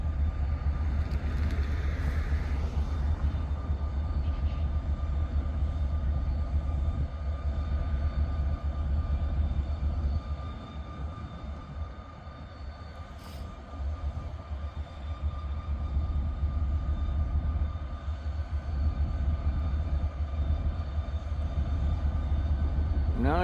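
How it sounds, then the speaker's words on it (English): A train moves along the tracks in Ohio rail country, giving a steady low rumble and rolling noise that dips slightly in the middle and then builds again, with no talk over it. "Now you gotta walk the train some more."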